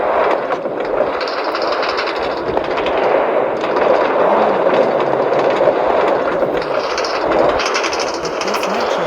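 Minecart metro ride in Minecraft on an elevated line, a steady rolling rumble with soft rhythmic clatter running continuously and fairly loud, with no talking.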